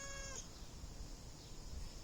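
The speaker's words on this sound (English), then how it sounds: "This is a neighbor cat that" A neighbour's cat gives a single short meow at the start, fairly close and clear, followed by quiet background noise.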